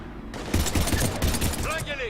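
Rapid gunfire in the video game Mass Effect 3, a dense burst of shots close and loud, with a voice talking over the firing and a short whooshing effect near the end.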